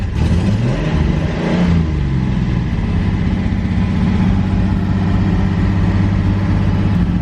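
A Datsun 240Z engine heard near and loud: it catches and revs up briefly, the pitch sweeps and falls, then it settles into a steady, throbbing low idle that continues to the end, with no talk.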